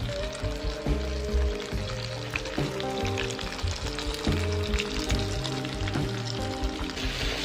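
Black pepper chicken stir-frying in a pan with onions, capsicum and tomato, a strong continuous sizzle under a backing of tuneful music.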